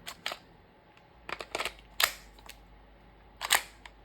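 GHM9 airsoft pistol handled up close, its bolt locking back on an empty magazine: a few sharp, crisp metallic clacks and clicks spread over several seconds, with quiet gaps between them and no voices.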